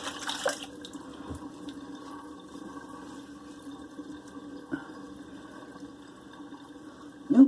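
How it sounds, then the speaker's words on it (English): Water swirls and gurgles down a bathroom sink drain in a steady low rush, with a couple of faint knocks partway through and a louder burst at the very end. "let the water out of this sink"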